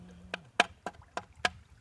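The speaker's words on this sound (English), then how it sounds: "That's the sound of a rock." Small rocks knock together as fossils are sifted in a sieve, five sharp, dry clicks spaced about a quarter second apart, close and fairly faint, with no talking.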